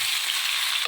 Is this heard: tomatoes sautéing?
yes